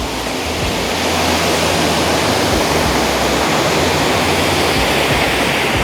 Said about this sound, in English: all of a sudden, you have this stunning waterfall.